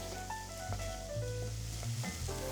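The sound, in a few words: onions and poblano peppers sweating in a pan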